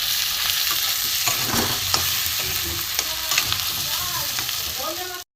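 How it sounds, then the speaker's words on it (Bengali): Chunks of country chicken sizzle steadily as they are stir-fried with salt, while a spatula scrapes and knocks against the pan in uneven strokes over a constant frying hiss, close to the pan and with no talk. "নুন দিয়ে একটু কষাবো।"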